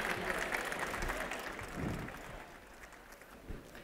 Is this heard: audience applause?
yes